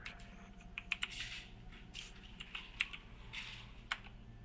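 A dice roll command is typed on a computer keyboard, a string of quick, close, light keystrokes in an uneven rhythm over faint background hum.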